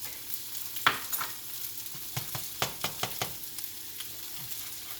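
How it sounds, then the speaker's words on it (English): Eggs cook in a pan Chinese style, with a faint sizzle beneath scattered clicks and taps of a utensil against the pan, some sharper knocks standing out. "I'm going to put these eggs right in the center here to cook"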